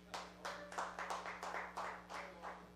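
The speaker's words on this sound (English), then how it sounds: "By round of applause." Scattered clapping from a small comedy show audience, a handful of hands striking in loose bursts over roughly three seconds against a steady low hum, fairly faint and without speech.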